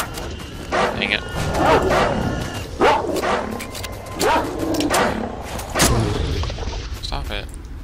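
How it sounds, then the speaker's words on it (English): Dogs bark and snarl in the game S.T.A.L.K.E.R. Lost Alpha, repeated loud yelps and growling bursts at a steady rhythm amid gameplay noise, with someone talking over them at times. "That's the dogs."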